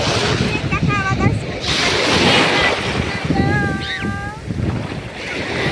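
Sea waves washing on a shore under heavy wind buffeting the microphone, a continuous rough roar with surges, while a voice or high tonal sounds appear briefly over it.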